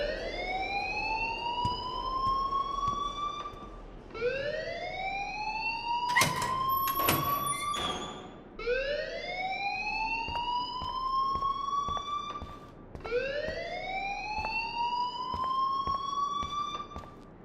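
Fire alarm from the video game Life Is Strange, a loud wailing tone rising in repeated sweeps about every four seconds, steady throughout, with a couple of brief sharp bursts in the middle.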